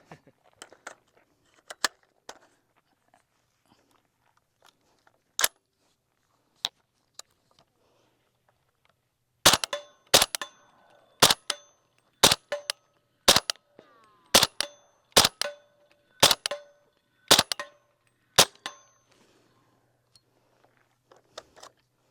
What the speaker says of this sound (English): She's gonna shoot her Honey Badger and then mine with the Remington ammo